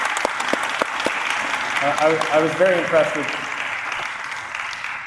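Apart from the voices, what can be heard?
audience applause for Jewish students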